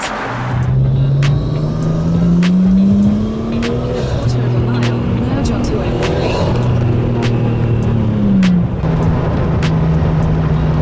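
A Nissan Skyline R34 with a carbon bonnet drives at night on the way to a car meet in Croydon, its engine droning steadily from inside the car with rising and falling revs as gears change, and clicks and knocks in the cabin.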